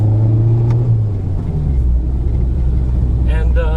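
A Nissan Pulsar GTI-R with its SR20 engine pulling away from a stop, loud close cabin rumble climbing in pitch, dropping at a shift, then building again.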